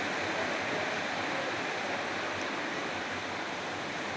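Bread slices fry in melted butter in a pan, giving a steady, even sizzle that holds at the same level throughout with no other sounds.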